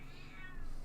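A cat meows in a drawn-out, wavering cry, fairly close, with a steady low hum underneath and no talking.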